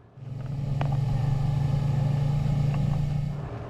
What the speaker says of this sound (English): we have 2 200 horsepower outboard engines.